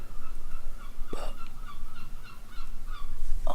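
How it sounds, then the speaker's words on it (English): Seagulls calling outside on a rainy day, squawks and honking cries repeating over a loud, steady rumbling background, one sharper call standing out partway through. "I do apologise for the seagulls. They have just been so bloody noisy."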